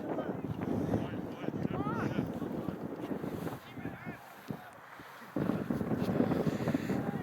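Steady gusting wind buffets the microphone outdoors at a freezing rugby match, a constant rumbling roar with brief lulls.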